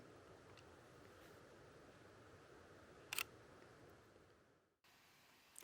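A photographer's camera shutter fires once, a sharp, short click midway through a quiet outdoor woodland scene with faint hiss and rustle, then the sound cuts out briefly before resuming.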